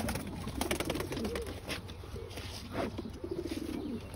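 Pigeons coo close by in a loft, with low, repeated throaty coos coming in short bursts and light rustling and patter of wings and feet between them.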